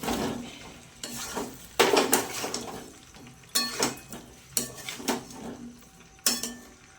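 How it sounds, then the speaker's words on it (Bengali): Fried potatoes tipped into a pan for vegetarian alur dom and stirred, giving repeated metal spoon scrapes and clinks against the pan in irregular bursts, close and fairly loud, over a faint sizzle with no talk. "এবার ভাজা আলুগুলো দিয়ে দেবো।"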